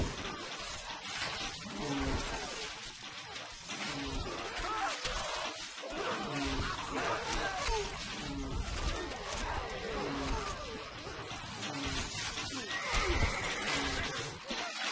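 Horses whinny repeatedly amid dense, noisy commotion in Stronghold Crusader, with voices and splashing mixed in throughout.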